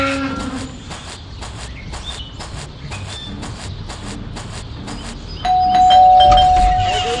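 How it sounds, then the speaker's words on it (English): Doorbell rings repeatedly in the Scary Teacher 3D video game, a string of sharp chimes in quick rhythm followed by a louder sustained tone, with rumbling game sounds underneath. "Stupid bell again."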